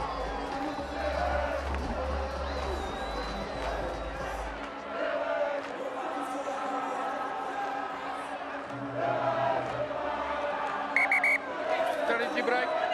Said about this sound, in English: Not a huge crowd, but they're certainly making themselves heard.